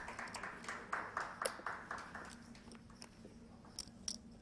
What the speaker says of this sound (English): I'm going to guess that was Nelly doing the clapping.